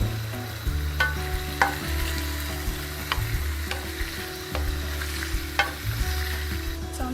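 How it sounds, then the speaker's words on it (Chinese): Seafood and diced chicken stir-fry in a hot wok for a home Chinese New Year dinner, with a steady close sizzle and repeated sharp scrapes and clanks of the spatula against the pan. "豆腐里头的各种海鲜放进去。"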